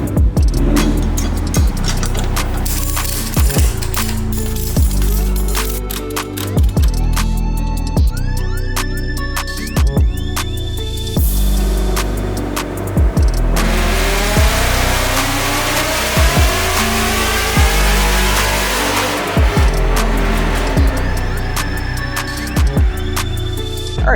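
A Gen3R-powered S550 Mustang running E85 with a return-style fuel system revs hard on a dyno, its loud engine sweeping up and down through repeated pulls over a steady mechanical drone.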